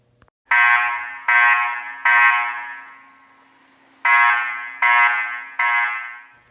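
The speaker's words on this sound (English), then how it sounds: "This is probably the rarest alarm setup you guys will ever see on any system test on YouTube." A fire alarm system under test blares in loud, buzzy horn blasts: three rhythmic pulses, a pause, then three more, each tone decaying slightly, with no talking over it.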